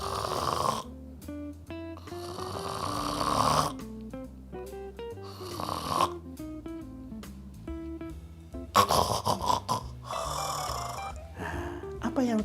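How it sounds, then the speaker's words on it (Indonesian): Severe snoring linked to sleep apnea, heard as repeated rough breathing bursts in a regular sleep rhythm, mixed with music and other sound throughout. "Ini yang menyebabkan suara ngorok"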